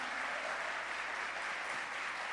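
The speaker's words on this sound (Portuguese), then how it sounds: "Aplauda o Senhor Jesus mais forte." A church congregation applauds during a Sunday service, dense and steady clapping filling a large hall for a couple of seconds without letup.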